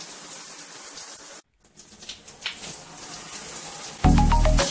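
A home shower runs as a steady spray of water, briefly cut off, then resuming, with a louder hollow splash and burst near the end.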